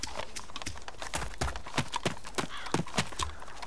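A horse trotting in DayZ, a close, steady run of rhythmic hoof clip-clops, several beats per second, moderately loud and without talking.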